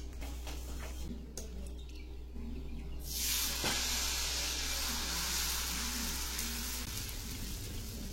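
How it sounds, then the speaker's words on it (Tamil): Millet dosa batter poured onto a hot griddle bursts into a loud, steady sizzle partway through, a bright hissing that continues to the end after a quieter stretch with faint clinks. "இப்ப நம்ம தோசை ஊத்திக்கலாம்."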